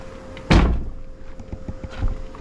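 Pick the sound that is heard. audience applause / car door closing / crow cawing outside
car door closing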